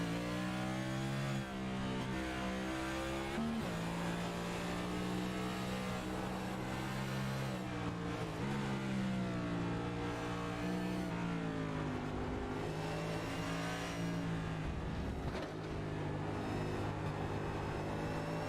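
Full Throttle Next Gen Series race cars lapping a track, engines droning and revving in layered harmonic tones that rise and fall as cars shift and pass, a continuous loud roar.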